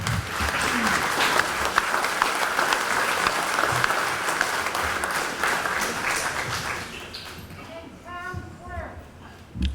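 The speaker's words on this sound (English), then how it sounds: "How about a round of applause for all those people?" Audience applause at a town meeting in Barre, Massachusetts: dense, steady clapping from a large crowd fills most of the stretch, then thins out near the end as a few voices and scattered claps remain.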